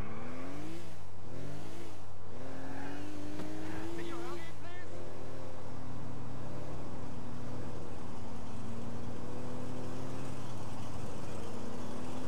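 Damaged car engine in GTA 4, smoking after crashes, droning loud and steady with revving sweeps early on, then a sustained rough hum under continuous speech.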